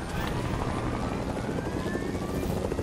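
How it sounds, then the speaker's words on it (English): Helicopter in Fortnite, a continuous low rotor thrum with a steady engine whine, even and unbroken throughout, with no one talking over it. "Get out of the helicopter"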